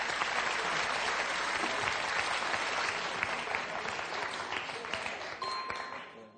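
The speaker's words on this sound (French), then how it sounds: "Gérard, très applaudi." A studio audience at a television quiz show applauds a contestant, with sustained, even clapping that fills the room for several seconds before fading at the end.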